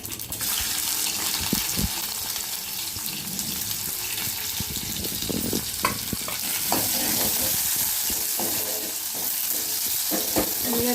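Onions fry with mustard seeds, cumin and fenugreek in a pan for bendakaya pulusu, a loud steady sizzle broken by scraping stirs.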